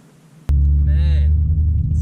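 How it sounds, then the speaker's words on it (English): Air conditioning in a Holden Commodore Chaser cabin switches on abruptly into a loud, steady low hum and rumble that continues to the end, with a brief voice-like sound partway through. "So good having this aircon working."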